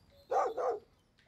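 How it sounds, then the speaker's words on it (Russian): Two quick barks from a dog in the survival game Mist Survival, close and fairly loud, followed by a short faint high tone. "Кого она там гавкает?"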